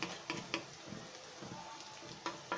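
A utensil stirs leafy greens frying in a pan, producing soft scrapes and taps at an uneven pace over a gentle, continuous sizzle.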